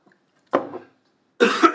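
Two separate coughs from a lecturer, the first short and moderately close, the second louder and a little longer after a brief silence.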